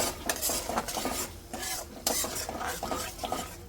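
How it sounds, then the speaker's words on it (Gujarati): Curd stirred into garlic masala in a pan with a metal spoon, quick repeated scraping strokes over a faint sizzle, close and alone. "તો દહીં નાખીને ફટાફટ મિક્સ કરી લેવાનું."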